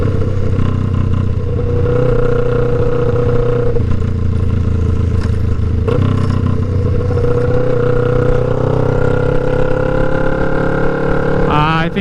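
A 2009 Kawasaki Ninja 500 (EX500) motorcycle cruising on a highway, its engine drone and wind rush loud and steady throughout, with a brief louder swell near the end.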